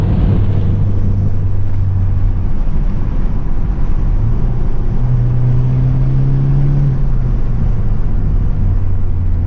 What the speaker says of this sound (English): We get some nice little exhaust sounds.